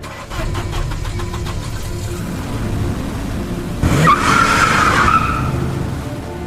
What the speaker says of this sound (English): it's about time I gave this car a trial run in the real world.